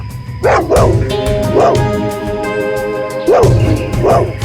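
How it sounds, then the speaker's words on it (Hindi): A dog barks loudly and close by, about six barks in two quick bursts, over a sustained tonal background. "उस तरफ मुंह करके भौंक क्यों रहा है?"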